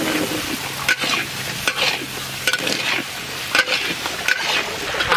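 Panch phoron, dried red chillies and ginger and cumin paste frying in hot oil, a loud, close crackling sizzle with bursts of stirring that rise and fall over a few seconds, alone without talk.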